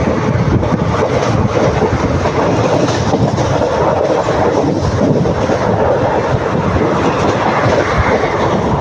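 A passenger train rumbles along the rails loud and close, a continuous roar with faint rhythmic clatter throughout.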